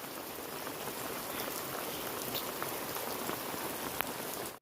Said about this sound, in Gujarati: બહુ જ વરસાદ વધતો ટ્રેક્ટર પલળી ગયું.